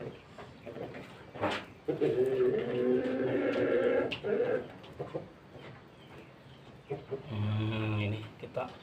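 Pelung chickens, an Indonesian long-crowing breed, crow loudly in a drawn-out, echoing call that swells and holds, followed by a second crow near the end, close by with a little background noise.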